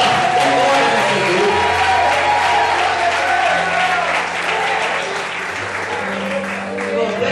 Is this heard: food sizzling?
no